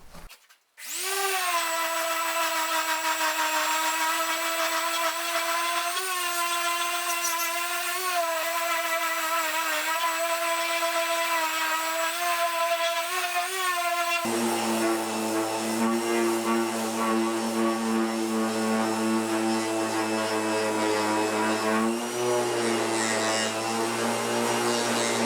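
A power sander with a 100-grit disc whines steadily and loudly for a long stretch while carving the wooden top of an ES-335-style guitar, its pitch dropping partway through as it bears down on the wood.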